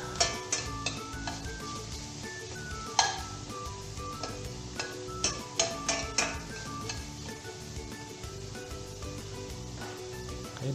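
Butter sizzling and crackling in a pan of mixed seafood for a Cajun dish, with a steady frying hiss broken by scattered utensil clicks and stirring taps, loud and close.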